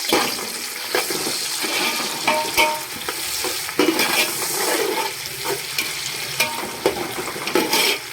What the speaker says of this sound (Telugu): నెయ్యి వేగిన తర్వాత ఆనియన్స్ కట్ చేసుకున్నటువంటి ఆనియన్స్ యాడ్ చేస్తున్నానండి